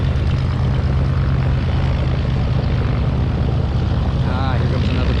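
Propeller airplane engine near a flying museum and airport, a steady, loud, throaty rumble with a muscle-car growl that drones on without letup.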